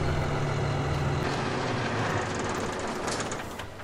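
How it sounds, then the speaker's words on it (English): A tractor engine idles in the Farming Simulator 15 video game, a steady low mechanical drone that holds even and loud throughout with no speech over it. "I'll just park the tractor here for now."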